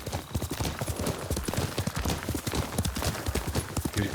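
Horse hooves clip-clop steadily in Ghost of Tsushima as Yuriko's horse moves close by, with a rapid, even rhythm of loud impacts and an occasional faint whinny underneath.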